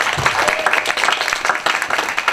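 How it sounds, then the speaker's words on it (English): An audience at a campus hip-hop scholars event claps and cheers in a steady, busy burst of applause, fairly close, with a few voices mixed in. "Y'all give a round of applause to Afro-Am."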